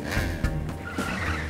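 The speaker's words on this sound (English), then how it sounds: "Put on your brakes, Ricky." A cartoon vehicle in Ricky Zoom brakes hard, its tires skidding and squealing in a short burst with a rough engine rumble beneath.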